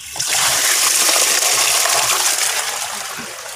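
Water gushes and splashes steadily as a koi pond filter chamber drains, a loud continuous rush that tapers slightly toward the end.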